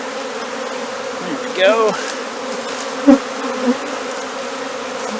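A honey bee swarm hums in a dense, steady drone on tree branches, with a few brief knocks and a short spoken remark partway through.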